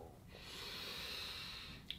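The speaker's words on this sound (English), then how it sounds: "Will you take a deep breath with me?" One deep inhalation through the nose, close and soft, with a steady airy rush, followed by a brief click at the end.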